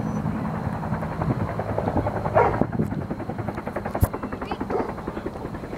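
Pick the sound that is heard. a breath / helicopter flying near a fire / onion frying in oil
helicopter flying near a fire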